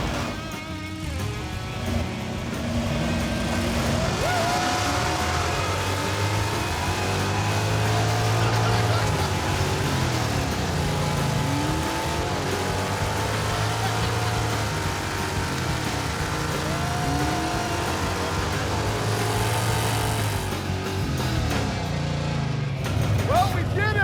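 Hemi-powered Plymouth Belvedere, a junkyard rescue car, driving on its first run, a steady loud engine drone with shifting pitch sweeps throughout, voices talking over it.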